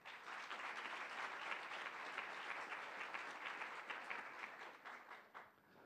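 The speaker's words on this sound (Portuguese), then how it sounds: "convidamos, com uma salva de palmas, Verônica Goizueta." An audience at a lecture with international correspondents gives steady applause, a continuous even patter of many hands at moderate distance that fades out near the end.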